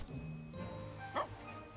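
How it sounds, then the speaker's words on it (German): A dog in the video game Cat Quest 2 gives one short, sharp bark over steady game music, clear but brief. "Oh, ein Hund."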